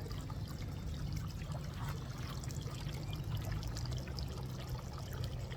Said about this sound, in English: Look at that fountain.